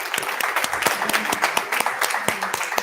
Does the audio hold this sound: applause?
yes